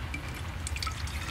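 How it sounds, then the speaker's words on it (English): Water runs into a Flairosol spray bottle for auto detailing, a steady gurgling pour with small splashy bursts, close and fairly loud, no voices. "I'm just going to fill this with water."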